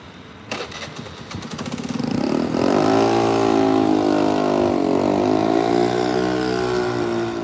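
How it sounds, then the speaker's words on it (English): A car engine starts up near a quiet Tokyo park street and settles into a loud, steady idle and gentle revving close by, with a brief rattle before it catches. "The cars have to go around this park."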